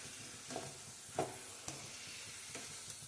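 Crispy papaya fries finish frying in hot oil and are lifted out, giving a faint, steady sizzle broken by a few soft scooping clicks and light knocks.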